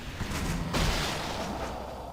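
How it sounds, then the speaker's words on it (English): Chaos burst missile skill from Torchlight 3 bursting in a quick spray of small blasts, a sharp rise near the middle, then a fading crackling rumble with no talking. "here's that chaos burst that I just put points into. You can see the missiles there."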